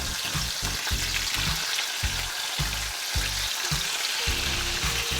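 Crucian carp fillets frying in oil in a pan, a dense crackling sizzle with rapid popping spatters throughout, close and loud.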